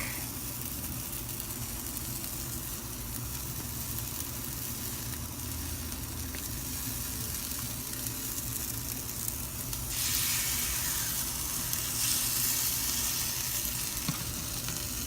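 Chile rellenos in egg batter fry in a pan with a steady, close sizzle that swells louder partway through, with no talking over it.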